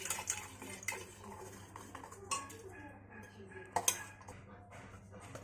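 Pressure cooker holding washed lentils and a little water set down on a stove, giving a few metallic clanks and clinks of pot and utensils amid kitchen clatter.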